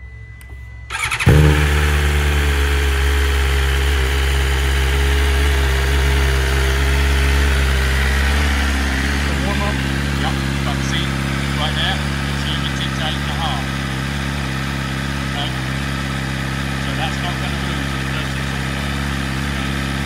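A 2023 BMW S1000RR in passion red fires up with a sharp start, then settles into a steady, loud, close idle that continues throughout, with a voice briefly heard under the engine.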